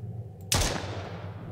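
A single loud pistol shot fired in the Mist Survival video game, a sharp close crack at about half a second followed by a long fading tail over a low steady background hum.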